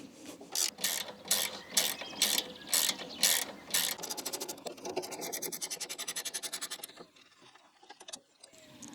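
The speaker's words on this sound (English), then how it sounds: "So again, the spanner is provided. I'm just going to undo those." A spanner ratchets bolts loose on a Cobra Fortis 17E cordless lawnmower, with loud, evenly spaced ratchet strokes followed by a rapid run of fine clicks that trails off.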